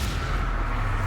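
A blasting spell detonates in a Harry Potter–style video game, a dense low rumbling boom that fills the whole short moment without any voices.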